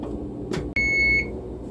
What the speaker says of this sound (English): the oven is beeping, telling me the 25 minutes is up